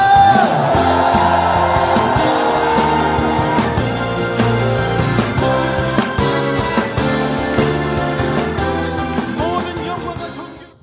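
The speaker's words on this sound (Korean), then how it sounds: "우리 큰 소리로 주님 앞에 영광의 함성 올려드립시다." A church congregation at a Sunday morning Methodist service raises a loud, sustained shout of praise to God, many voices yelling and whooping together over music before fading at the end.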